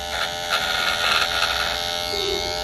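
Electric hair trimmers buzz steadily and close up while cutting hair in a barbershop, a continuous high whine with slight strain as the blade moves through the hair.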